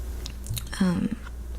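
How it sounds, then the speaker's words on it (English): Gum being chewed close up in a soft-spoken ASMR storytime, giving a few moist, squishy smacks and clicks over a quiet low hum, with no talking. "Also going to be chewing some gum."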